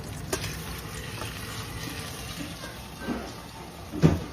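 Chopped red onion and habanero frying in a pan, giving a soft, steady sizzle with faint stirring clicks and a slightly louder spatter near the end, fairly quiet and close.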